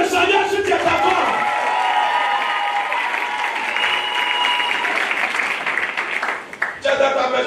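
A church congregation applauds and cheers together during a charismatic service, a dense, loud wall of clapping and crowd voices that holds steady for most of the span before thinning near the end.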